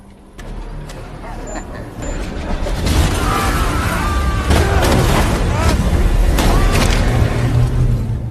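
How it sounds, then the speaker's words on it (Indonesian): A loud explosion bursts in a kidnapping action scene, a heavy blast swelling into a sustained roar of debris and rumble, with a brief shrill tone and crackling rising through it. "Akibat ledakan tersebut"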